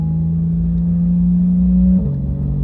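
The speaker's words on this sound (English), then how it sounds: "Hold up, my car's too loud." A car engine drones loudly and steadily at close range, its pitch holding high before dropping slightly near the end.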